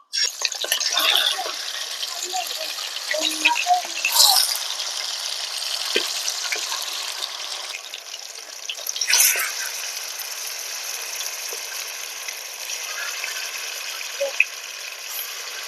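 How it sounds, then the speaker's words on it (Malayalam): Marinated chicken pieces coated in ground green chili fry in hot oil, giving a loud, continuous close-up sizzle with occasional sharper crackles and bubbling throughout. "നന്നായിട്ട് എണ്ണയിൽ കിടന്ന് തിളയ്ക്കുന്നുണ്ട് നല്ല അടിപൊളിയായിട്ട് മൊരിഞ്ഞു വരും"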